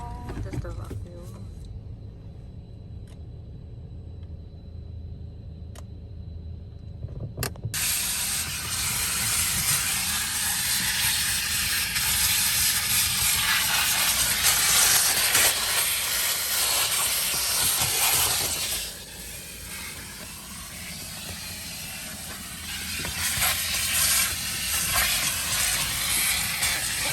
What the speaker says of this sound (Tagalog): Ayun, tapos nang ma-vacuum.